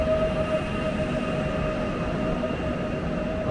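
A train pulls out of Łódź Widzew station, a steady low rumble of rolling wheels and carriages with a faint high squeal running through it, close and continuous, with no voices.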